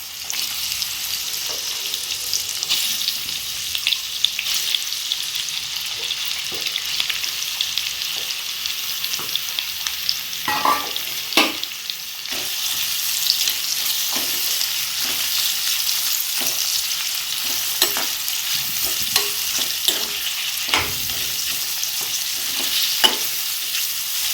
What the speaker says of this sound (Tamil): எண்ணெய் வெங்காயம் போட்டுக்கலாம். நல்லா ப்ரௌன் கலர் வர வரைக்கும் வதக்கணும்.